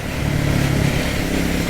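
A Triumph Scrambler 400 X motorcycle cruises over a bridge in Portland, Oregon, its engine a steady mid-pitched drone mixed with heavy rushing wind noise, loud and continuous.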